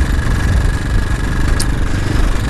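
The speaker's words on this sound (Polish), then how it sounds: "powiem wam, że i tak ten silnik słychać" A Mikilon 250 supermoto motorcycle engine idles steadily with a low, rumbling vibration, continuous and fairly loud, with no talking over it.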